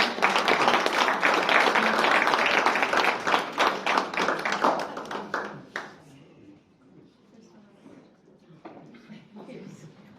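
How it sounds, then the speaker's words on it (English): Audience at a graduation ceremony breaks into loud, dense applause that holds for about five seconds, then thins out to scattered claps and quiet room noise. "A round of applause to Ellen."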